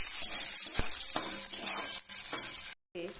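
Chopped green chilli and salt frying in a pan for aloo paratha filling, a steady bright sizzle with a few spatula scrapes, briefly cutting out near the end.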